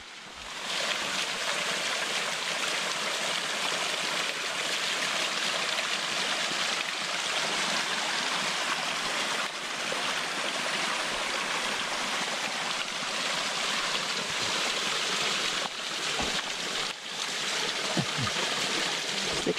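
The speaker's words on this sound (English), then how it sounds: "And we found a nice spring to refill all of our water." Mountain spring water flows steadily in the Catskill Mountains, a continuous broad rushing wash that stays fairly loud and close throughout, with no talking.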